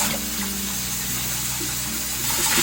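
Tap water runs steadily into a kitchen sink while napa cabbage is rinsed by hand, a continuous close splashing wash with faint shifting tones and no talk.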